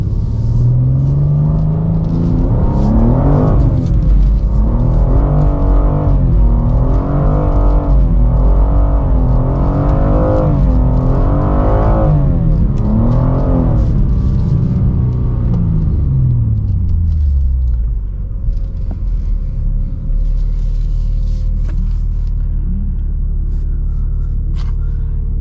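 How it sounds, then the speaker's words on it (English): A 2024 BMW M2 on a drift run at a driving school pulses its engine through repeated rising and falling revs, loud and close, then drops into a lower steady idle-like rumble for the last stretch. "we're gonna do one more drift run here against Charlie"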